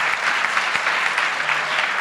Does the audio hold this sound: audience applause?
yes